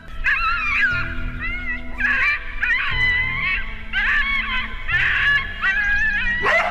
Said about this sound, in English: using legal hunting dogs was the perfect choice for this hunt